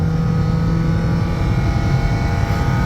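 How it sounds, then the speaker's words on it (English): A 1997 Toyota RAV4's four-cylinder engine works hard while accelerating onto an interstate, giving a loud, steady, droning roar with a low hum and rising whine inside the cabin throughout, with no talk. "That little Toyota 4-banger just working hard, man."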